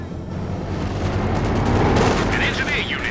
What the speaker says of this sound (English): Air support is coming as requested. Starting a strafing run now.